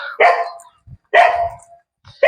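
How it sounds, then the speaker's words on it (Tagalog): Caged dog at a housing relocation site in Naic, Cavite, barking loudly and close by: two full barks about a second apart and the start of a third, with low thuds between them. "May aso dun."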